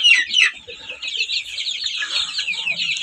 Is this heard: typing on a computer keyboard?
no